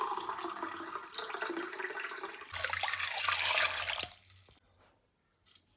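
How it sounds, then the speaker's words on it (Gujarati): About a glass of water is poured from a tap for boiling potatoes, a close splashing rush that builds louder over roughly four seconds. It then stops abruptly, leaving near silence and a faint knock. "1 ગ્લાસ જેટલું પાણી લઈ લેશું."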